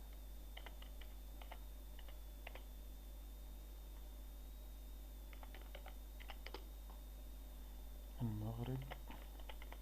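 Player names being typed on a computer keyboard, a series of quick faint key clicks in scattered bursts, with someone speaking briefly near the end.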